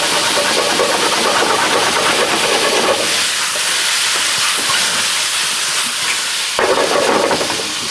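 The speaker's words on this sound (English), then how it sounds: "this is so hot that these vegetables will cook in seconds" Vegetables searing in a very hot skillet on a professional stove, a loud continuous broadband hiss and sizzle that dips briefly in the middle and surges again near the end.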